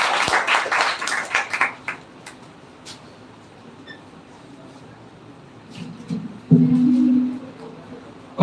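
Applause from an audience at an institute gathering, honouring a woman with a very loud voice: a dense, loud burst of clapping lasting under two seconds, then quiet room tone with a low hum.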